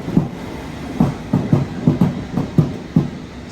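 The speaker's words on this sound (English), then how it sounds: "here's our next train, which is an underground Hammersmith and City Line service to Hammersmith" A London Underground Hammersmith and City line train pulls in, wheels knocking over rail joints in a steady clickety-clack rhythm under a constant rumble, loud and close.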